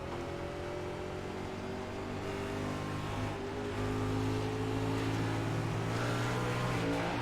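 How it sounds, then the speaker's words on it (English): Steady, loud engine drone from inside a race car on the New Hampshire oval, held at a constant pitch and swelling slightly louder partway through as the throttle comes back on, with no talking. "He came right back to the throttle"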